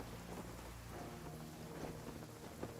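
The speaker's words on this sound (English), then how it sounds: "If this rain keeps up, my fur will be dripping wet." Steady rain with low rumbling thunder in a Genshin Impact storm at Blackcliff Forge, a continuous wash of noise held at an even level throughout, with no voices.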